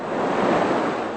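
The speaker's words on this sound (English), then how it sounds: "The ocean is very angry right now." Atlantic Ocean waves surge continuously at Goulds Inlet on coastal Georgia ahead of Hurricane Dorian, a steady loud roar of surf mixed with howling wind buffeting the microphone.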